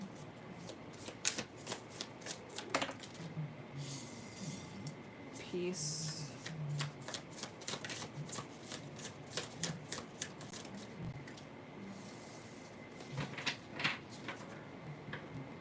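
Cards are shuffled repeatedly in quick, crisp riffling bursts, close up, with a brief word spoken at one point.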